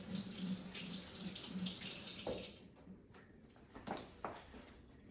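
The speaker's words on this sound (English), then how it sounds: "first thing again you want to do is wet your hand with some warm water" Warm water runs from a kitchen tap in a steady broadband rush for about two and a half seconds and then cuts off, followed by a few brief splashes and drips as a hand is wetted for handling sourdough.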